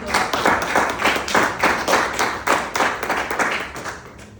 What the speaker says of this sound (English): Please give him another thunderous round of applause.